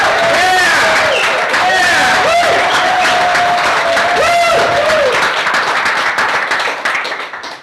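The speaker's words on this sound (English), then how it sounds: "Now wildly applause." Enthusiastic clapping and cheering fills a bookstore reading at Boswell Book Company, loud and close, with someone whistling or whooping over the crowd before it tapers off at the end.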